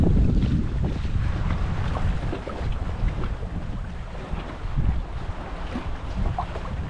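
A steady motorboat engine drones loudly over open water, with wind buffeting the microphone and constant rushing noise throughout.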